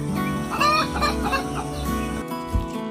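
Chickens cluck close by while being fed, a few short soft calls in quick succession.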